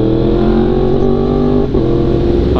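A Yamaha R1M superbike engine revs close by, a steady loud high-pitched drone holding through most of the run, briefly dipping near the end before climbing again, with no voices over it.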